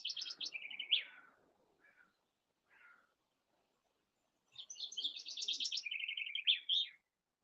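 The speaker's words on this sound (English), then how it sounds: "you've got all the birds tweeting away" Birds chirp and trill in two clear bursts separated by a quiet gap, bright and fairly close in an otherwise still setting.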